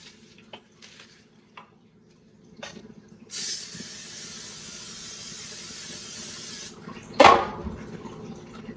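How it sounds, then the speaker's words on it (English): After some faint clinks, a steady Pam cooking spray hiss coats baking pans for about three and a half seconds, followed by a short second burst, close and clear. "I'm probably just going to hit it with a little spray"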